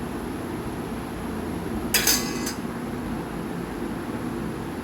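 A spoon stirring dried red beans in a pan: one brief, bright rattling clink of a half-second burst, heard over a constant background hiss.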